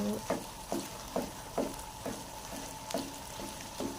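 Halwa roasting in oil in a pan, with a spoon scraping through it in a steady rhythm of about two strokes per second over a continuous soft sizzle, close up.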